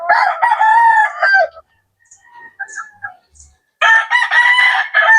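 Sweater-breed gamefowl rooster crowing loudly nearby, one long crow, then faint chirps and clucks in a pause, then a second full crow.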